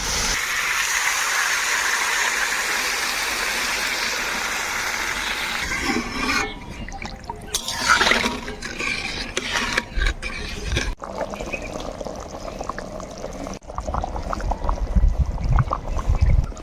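Water pours into a pan of fried yam pieces for a village crab curry, beginning as a steady hiss and splash. It then turns into gurgling and sizzling noises, close and fairly loud.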